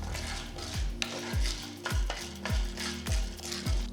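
Horse gram dry roasting in a pan for chutney, stirred steadily: a rhythmic scrape of a spatula sweeping the seeds around the metal surface about every half second, with a soft rattle and light sizzle, close and fairly loud, no voices.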